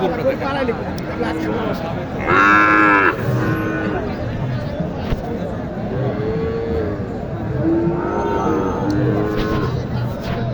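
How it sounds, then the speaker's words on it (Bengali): A cow moos loudly nearby, followed by softer lowing, while people talk in the background of a busy cattle market in Naogaon, Bangladesh. "এইখানে একটি গরু দেখতেছি"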